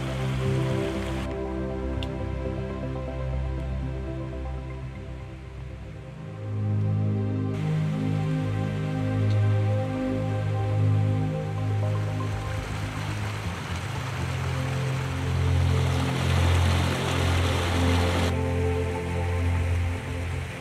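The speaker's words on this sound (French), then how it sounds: "Le torrent de la Bresse que nous allons remonter pendant un bon moment." A mountain torrent, La Bresse, rushes along a rocky hiking trail in a steady broadband roar that swells louder partway through, with no voices.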